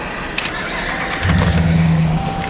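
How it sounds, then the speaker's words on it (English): A car engine cranks and catches partway through, settling into a low, steady idle hum after a brief starter whir, heard up close with no talk. "start your vehicle"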